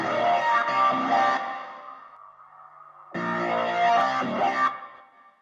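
Sustained pipe organ chords, from three microphone pairs sent into an analog reverb, swell in two bursts, separated by a long reverberant tail that lingers and slowly decays between them.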